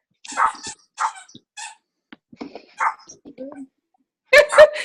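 A new puppy gives high, squeaky yips and whimpers in scattered short bursts, with a louder burst at the end, among people talking.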